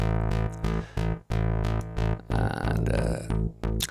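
A synthesizer tone is chopped by an LFO set to a pulse wave, giving a loud, buzzy, harmonically rich sound that switches on and off in a steady rhythm, with a brief noisier burst partway through.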